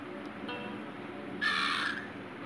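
A crow caws in the Monument Valley puzzle game, one harsh rasping call standing out near the middle over a quiet hissing background, close and fairly clear, with no talking.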